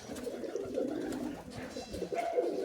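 High-flying pigeons coo inside a home loft in soft, repeated throaty calls, close and fairly quiet, with overlapping murmurs from several birds.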